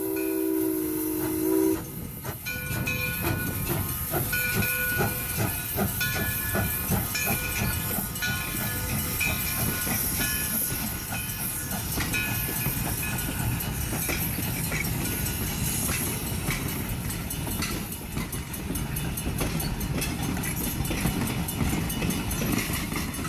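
A train idles nearby with a continuous loud hiss of steam and mechanical rumble, broad and steady throughout, no talking.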